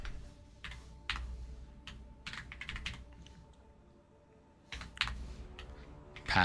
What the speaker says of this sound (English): Unless you guys like the keyboard clicking ASMR.